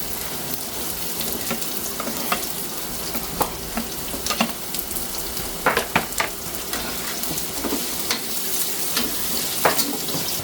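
Food frying in a pan while cooking biringhe, a steady close sizzle with intermittent sharper crackles and stirring clinks, continuous throughout with no talk.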